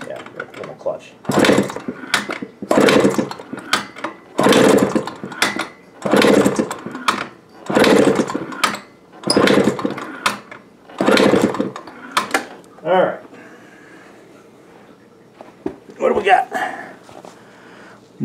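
The engine of a 1980 Suzuki FZ50 moped, cold, is cranked over during a compression test. It gives a series of loud rhythmic churning bursts, about nine in a row, that stop partway through, followed by quieter clicks and handling noises.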